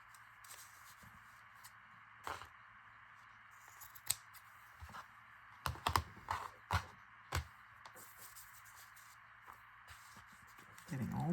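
Worn, gummed, dull Fiskars scissors cutting through a paper bag or paper craft material: irregular quiet snips and crisp shearing bursts, clustered in the middle, with paper rustling in a quiet room.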